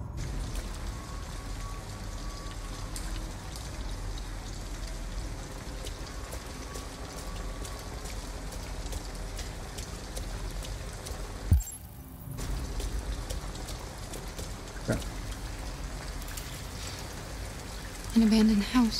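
Steady rain falls outside an abandoned house in the video game Detroit: Become Human, a constant patter that runs through the whole stretch while characters talk over it.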